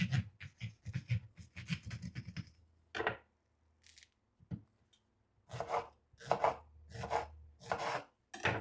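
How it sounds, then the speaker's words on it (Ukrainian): Juicy peaches being sliced with a knife, a quick run of close, rhythmic chopping strokes, then a pause and several slower, separated cuts. "Беремо соковиті гарні персики, нарізаємо їх і викладаємо."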